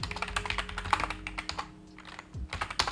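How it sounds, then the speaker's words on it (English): Keys clatter in quick, irregular bursts on a computer keyboard, close and clear, as a terminal command is typed on a Mac. "So just install by typing bash and then Miniconda."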